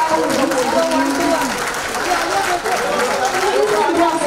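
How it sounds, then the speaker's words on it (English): Audience applause at an interview event with an actress, loud dense clapping mixed with crowd chatter and voices throughout. "can we have a round of applause"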